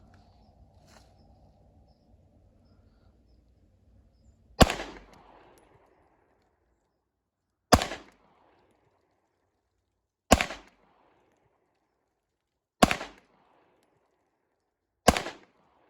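A Sig P228 pistol fires five rounds outdoors at dusk, each shot a sharp loud crack with a short echoing tail, spaced a few seconds apart after a quiet lead-in.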